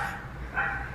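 A dog barking at birds gives two short, muffled barks in quick succession at a distance, over a low background hum.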